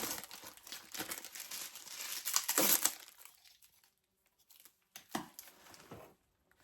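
A protective plastic wrapper crinkles and crackles on motorcycle spotlight covers, close and loud in bursts for the first few seconds, then silence broken by a few more brief rustles.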